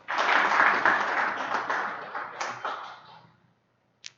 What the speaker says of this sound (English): let's give a huge round of applause for Shakti Shri for the first talk